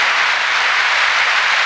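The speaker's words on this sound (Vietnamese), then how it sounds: "Một tràng vỗ tay thật lớn của quý vị để chúc mừng cho nghi thức trao nhẫn cưới của cô dâu chú rể." Wedding guests at a ceremony in Bảo Sơn, Lục Nam, Bắc Giang break into steady, loud applause for the couple's ring exchange, a continuous wash of clapping with no voices over it.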